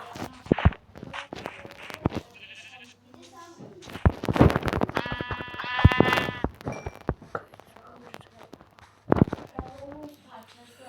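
Sheep in a video game bleat several times in short, wavering cries amid footsteps and scattered thumps, with a person talking intermittently in Turkish over them.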